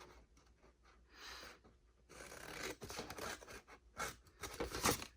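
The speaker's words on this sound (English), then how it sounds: "on the short side, cut all the way in and cut those off" Scissors cut through paper card for a fancy-fold box card, quiet, close snips and rasping slices in irregular bursts, growing busier and slightly louder toward the end.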